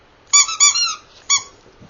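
A squeaky dog toy lets out three sharp, high squeaks, two close together and then one after a short pause, close and clear against near silence.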